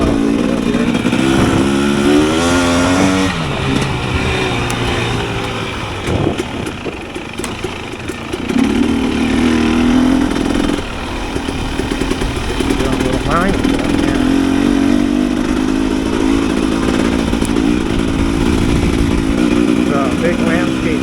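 A 2022 Husqvarna TX 300 two-stroke motorcycle being ridden to warm its oil, its engine droning loud and close throughout with rising and falling revs and shifting pitch, talk running over it.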